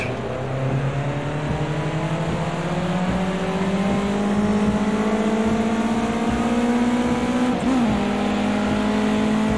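Race car engine in Project CARS 2 powering down a straight, a steady loud drone rising in pitch through a long acceleration, with a brief gear-change dip near the end, no talk.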